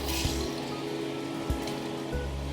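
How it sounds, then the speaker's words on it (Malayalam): Mustard seeds crackle in hot coconut oil in a pan, a dense patter like rain with a few louder distinct pops standing out, close and continuous. "കടുക് പൊട്ടി തുടങ്ങിയിട്ടുണ്ട്."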